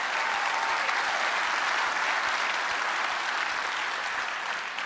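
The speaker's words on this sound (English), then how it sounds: "let's give yourself a round of applause" Audience applause filling an auditorium, a dense steady clapping from a large crowd that holds at full strength throughout and tapers slightly at the end.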